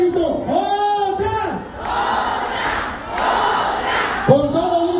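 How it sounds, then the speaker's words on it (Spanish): A crowd at a banda concert in Los Angeles shouts loudly together for another song, with rising chanted cries at the start and end over a dense roar of voices. "¡Que se escuche, grito! ¡Otra!"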